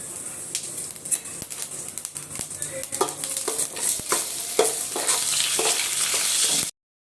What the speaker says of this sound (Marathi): मेथी, राई आणि जिरे फोडणीला टाकायचं आहे आणि छान फोडणी होऊ द्यायची आहे